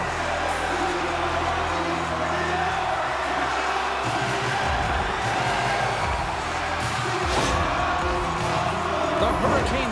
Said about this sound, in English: this amped-up crowd has already turned it up a notch after that strike